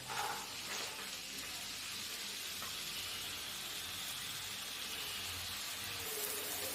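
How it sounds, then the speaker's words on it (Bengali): Cut potatoes hit hot oil in a wok, giving a soft, even hiss that runs from start to finish with a brief louder burst at the beginning; quiet and steady, no voices. "কেটে রাখা আলুগুলো আমি কড়াইয়ের মধ্যে দিয়ে দেব"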